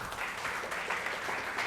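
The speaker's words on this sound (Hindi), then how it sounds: "जोरदार ताली से इस भाई को धन्यवाद दें." Audience applause at a church service, steady dense clapping throughout with no voices over it.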